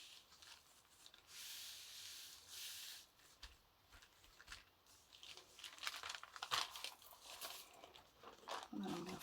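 A paper napkin is smoothed gently by hand onto a journal cover, giving soft, intermittent rustling and crinkling strokes close to the listener that grow busier toward the end.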